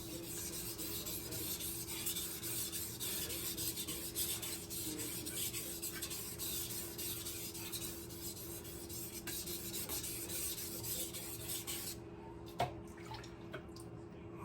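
A cooking knife is sharpened by hand with steady, even strokes at a constant angle, making a quiet continuous rasping and rubbing close by that stops abruptly near the end.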